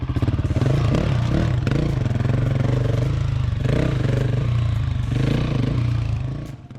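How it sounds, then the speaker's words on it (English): A Ford Ranger engine labours loudly and steadily through a massive muddy bog hole, a continuous close growl with clattering and scraping surges, fading out at the very end. "A Ford Ranger, coming the opposite way, has tried to get through."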